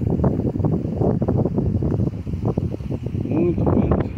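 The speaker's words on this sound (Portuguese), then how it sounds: "Muito vento." Strong wind sweeps through a corn field, loud gusty buffeting and low rumbling on the microphone with a voice faintly underneath.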